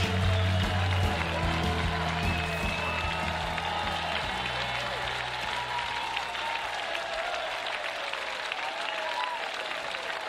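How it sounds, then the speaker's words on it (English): Stadium crowd at a Paralympic 5-a-side football gold medal ceremony in London 2012 gives sustained loud applause and cheering, with a low hum early on and some faint speech beneath. "Wonderful ovation from this crowd"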